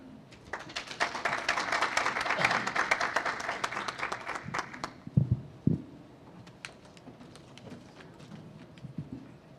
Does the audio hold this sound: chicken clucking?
no